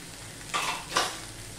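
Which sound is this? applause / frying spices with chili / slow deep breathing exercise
frying spices with chili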